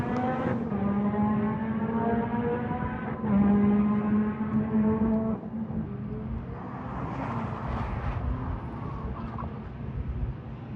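A Ferrari sports car engine heard from the paddock holds a loud, steady tone that shifts pitch partway through, then settles into a rougher, lower drone, continuous and fairly distant.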